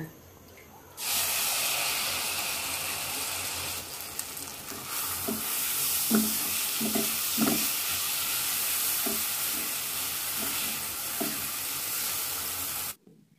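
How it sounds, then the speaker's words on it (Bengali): Sago pearls frying in ghee for sabudana payesh, a steady loud sizzle with a hissing wash throughout and repeated soft scraping stir strokes, starting abruptly and cutting off near the end. "একই ঘিতে আমি সাবুদানাগুলো এখন ভেজে নিব এক মিনিটের জন্য"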